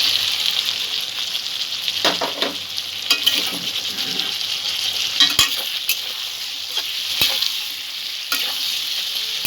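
Potato frying with softened onion and tomato in a pan for a kankrol (spiny gourd) curry, a steady close sizzle broken by intermittent spatula stirs and scrapes against the pan throughout.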